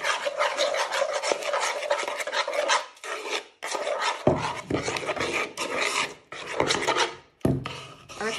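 Rib marinade ingredients with a pinch of salt are stirred and scraped together in a bowl, a close, steady rasping and rubbing that pauses briefly a few times and runs alone without speech.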